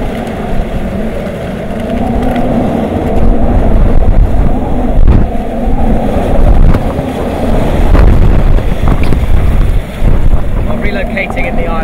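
Strong typhoon wind roars and buffets the microphone in gusts in Okinawa, with rumbling low noise rising and falling throughout.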